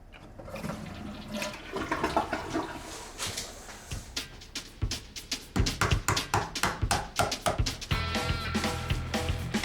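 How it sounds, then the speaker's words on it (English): Toilet flush in a bungalow bathroom, a loud close rush of water that swirls and gurgles in rapid pulses as the bowl drains and refills. "the less water we need to actually flush everything down"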